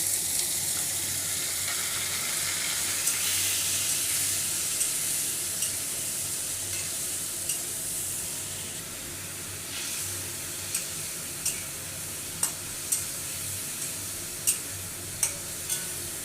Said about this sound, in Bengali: আমার আলুটা লাল লাল করে ভাজা হয়ে গেছে সব উপকরণগুলো এবার এতে দিয়ে দিচ্ছি